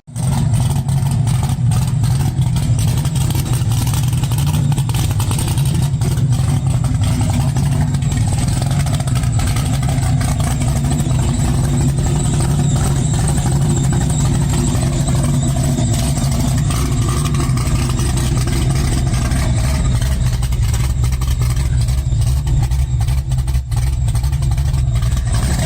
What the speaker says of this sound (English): this next little video is the motor that's going in it. It was in one of his old Mustangs.